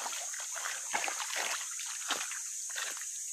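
A weak trickle of water runs along a shallow stream crossing, a steady close wash with small splashy surges and no talk.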